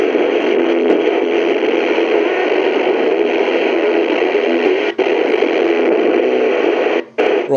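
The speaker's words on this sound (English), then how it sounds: "There was music on that interference." A receiver on the 2 meter amateur band in Brixham gives steady, loud hissing interference that carries faint music, with only two brief dropouts.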